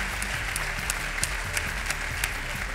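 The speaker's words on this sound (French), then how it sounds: "Donc je pense qu'on peut les applaudir bien," Audience applause at a French community association event, dense and steady clapping from a large crowd filling the whole stretch, with no voices on top.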